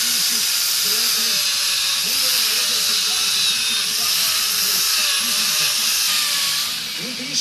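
Power tools, a router and small saws, carving ice at an outdoor ice sculpture festival, giving a steady loud hissing whine with a rising and falling pitch throughout, while voices talk over it.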